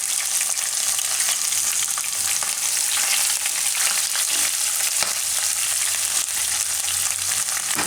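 Green chillies sizzling loudly in hot oil with peanuts in a pan while cooking pava, a continuous dense frying hiss throughout, with no talk.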